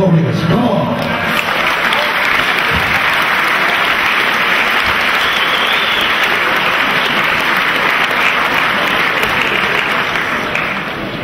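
An audience at a FUKAC fight night gives both fighters a big, sustained round of applause with crowd noise, loud and steady throughout before easing off at the end.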